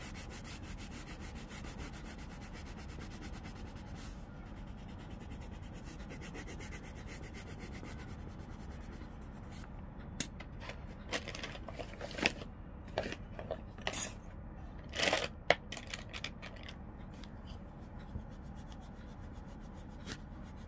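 Pencil coloring on paper: a steady, soft scratchy rubbing, quiet and close, becoming more uneven with small taps and strokes in the second half, with no talking.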